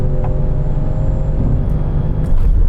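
A sports car on cold tyres launches and pulls hard, its engine giving a loud, steady roar under boost without a break, and a slight swell toward the end. No one speaks.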